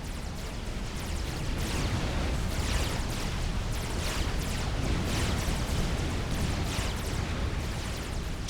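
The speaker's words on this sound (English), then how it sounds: "He's got Cerberus fire tickling away his commander." Cerberus turrets firing in the real-time strategy game Supreme Commander: Forged Alliance Forever: a dense, continuous rumble of overlapping bursts and blasts with rhythmic heavy impacts, loud and without any talking.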